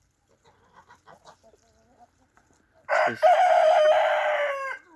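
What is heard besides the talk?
chickens clucking and rooster crowing in farmyard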